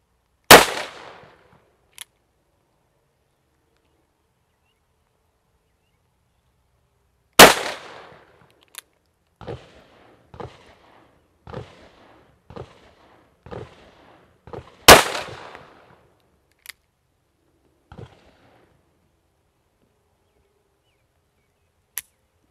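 Single-action .44 Magnum revolver shots, three loud booming reports spaced several seconds apart, with clicks of cocking and handling between them and no talk.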